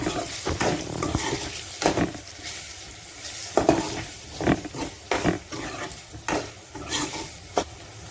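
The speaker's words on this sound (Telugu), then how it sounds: "అందులో కొద్దిగా అల్లం వెల్లుల్లి పేస్ట్ని కూడా వేసుకొని ఈ విధంగా అయితే కలిపేసుకుంటున్నా. కాసేపు వేగనివ్వండి." Paneer frying in a pan with ginger garlic paste while being stirred, a soft continuous sizzle broken by repeated scraping strokes of the spoon, close and moderately quiet.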